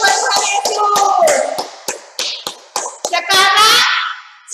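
Children at a Saturday kids' church class clap their hands in sharp rhythmic bursts, mixed with children's voices singing or chanting over the claps.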